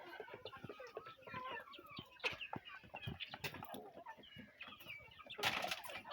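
Several chickens cluck and murmur continuously nearby, with scattered sharper squawks and a brief rustling flurry near the end.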